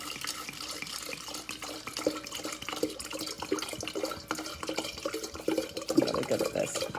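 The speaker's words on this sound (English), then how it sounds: "I pour in my wine." Wine pours into a glass pitcher for sangria, a steady liquid stream splashing and gurgling nearby with a slight rise in fullness toward the end.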